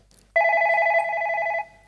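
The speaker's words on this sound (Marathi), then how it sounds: "पहिला फोन आलेला आहे." A telephone rings once in a single sustained electronic bell burst of about a second, clear and close, during a phone-in segment on a Marathi television comedy show, with the surroundings otherwise quiet.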